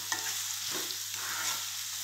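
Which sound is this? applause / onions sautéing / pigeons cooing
onions sautéing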